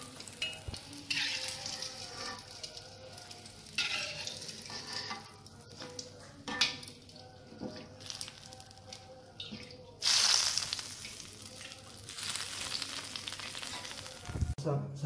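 Tempeh frying in a pan, a continuous close oily sizzle with occasional stirring scrapes and a louder hissing surge partway through, no talking.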